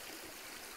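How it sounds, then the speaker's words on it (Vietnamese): A mountain stream flows at the Khe Yên junction deep in the forest near the Lao border, heard as a steady, quiet wash of running water with no voices. "đây chính là ngã ba suối Khe Yên"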